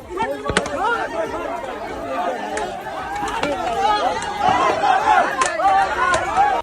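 A crowd beating a man suspected of theft makes agitated, overlapping shouting and chatter, with scattered sharp thuds from blows cutting through the noisy hubbub.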